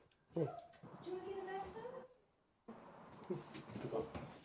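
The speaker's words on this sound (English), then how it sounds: "a dog wanting to get in the bathtub" A dog whimpers and yips beside a bathtub in short, faint, tonal cries that rise and break off, with a brief pause midway and people talking quietly nearby.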